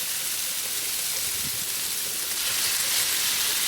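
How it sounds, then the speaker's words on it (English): Pomfret fish pieces fry in hot olive oil, giving a loud, steady hiss and sizzle that fills the whole stretch without a break and swells slightly toward the end. "Now the oil is really hot. Let's add the fish pieces one by one."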